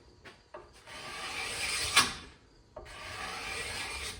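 Rasping scrape of a tool on a wooden self bow limb during tillering, a few broad strokes in close succession with short pauses, close and moderately loud, no talking.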